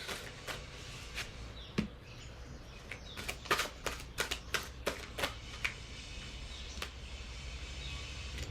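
Tarot cards shuffled and drawn by hand during a reading, heard as a run of soft, quick riffling clicks and slaps that thicken in the middle, close and fairly quiet over a low room hum, with no talking.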